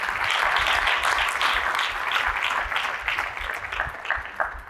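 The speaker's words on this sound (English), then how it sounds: "If you want to clap, put your hands together and celebrate the love of God." Church congregation clapping steadily during a sermon, a dense sustained applause that holds loud and even throughout, then thins slightly toward the end.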